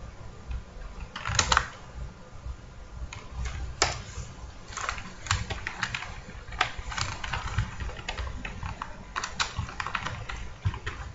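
Keys clatter in irregular bursts and single strokes as Java code is typed on a computer keyboard, close and clear over a low background hum, with no talking.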